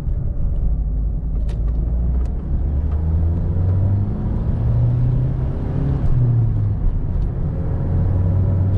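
A 1984 Pontiac Fiero is driven on a November outing, heard from inside as a continuous, close, fairly loud engine and road rumble whose pitch rises and falls gently with throttle, plus a few faint clicks; no talking.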